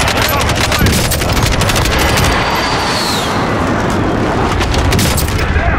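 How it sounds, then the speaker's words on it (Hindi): Precision airstrike explosions mixed with gunfire in the Warzone battle royale game, a continuous loud roar of blasts and rattling shots with rapid crackling bursts layered over a heavy rumbling bed, and voices talking over the din. "Allied precision airstrike incoming."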